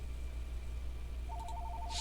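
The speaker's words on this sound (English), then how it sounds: "the phone's going to ring at this moment as well" A telephone ringing cuts in partway through: a faint, pulsed electronic ring repeating in short regular bursts over a steady low hum.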